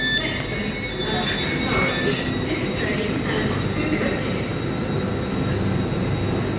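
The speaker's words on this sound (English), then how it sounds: "before we have some trains storming through here" A train passing through Grantham station, a steady loud rolling rumble with a high metallic whine and wheel noise throughout, heard at close range.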